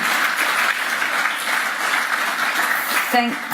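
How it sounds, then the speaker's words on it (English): An audience at a business forum applauds warmly, a steady, loud wash of clapping that lasts the whole time, with a brief voice near the end. "I think you can thank them very warmly and applaud"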